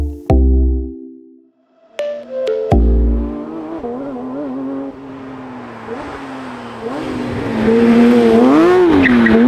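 A Porsche GT3 engine roars loudly, with sharp revving bursts at the start, then a sustained climbing and wavering engine note that grows louder toward the end.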